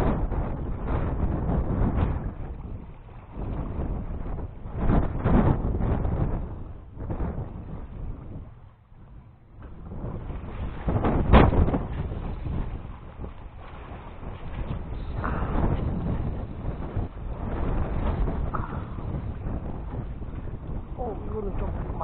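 Strong gusty wind buffets the microphone on a breakwater at Jisepo while fishing, a heavy roaring rumble that swells and eases throughout, with someone talking at times.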